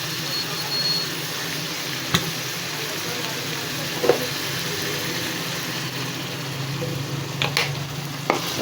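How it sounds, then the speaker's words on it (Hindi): Tender cooked mutton for matar gosht browns in about a cup of oil, making a steady low hiss of frying with a few sharp clicks and scrapes of stirring scattered through. "गोश्त भी गल चुका है, अब इसको भून लेते हैं।"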